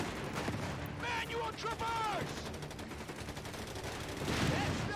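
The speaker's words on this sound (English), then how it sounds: "And then can take out their sniper with my tank." A tank fires at an enemy sniper in Company of Heroes 3 amid battle, with dense gunfire, a few heavier cannon-like blasts and constant combat noise at moderate level.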